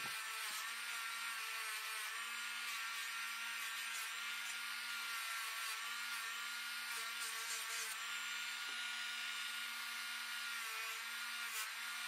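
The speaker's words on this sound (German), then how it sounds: "der wird jetzt so wie die anderen Funde auch noch mal kurz ein bisschen poliert" A small gilded decorative nail, an excavated find coated in wax, is polished by hand, giving a steady, continuous close rubbing hiss with a low motor-like hum underneath throughout, no talking.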